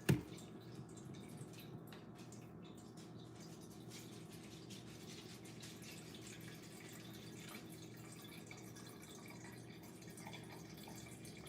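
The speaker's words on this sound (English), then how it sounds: "Filling up my water." Water running from a tap into a bottle, a faint, steady trickling stream that continues evenly after a brief knock at the start.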